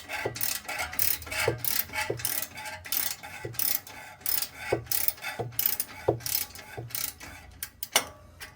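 A ratchet tightens a bolt while an Apex exhaust is installed. It gives rapid, close, crisp clicking in irregular bursts of strokes, with short pauses between them.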